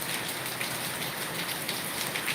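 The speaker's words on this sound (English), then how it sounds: "we got all this hard rain coming down out here" Hard rain pours steadily outdoors in the Philippines, a dense, loud, unbroken hiss of drops hitting surfaces with no other sounds.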